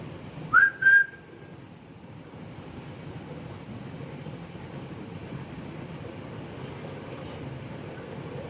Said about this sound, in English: Could you try, possibly, and copy my whistle?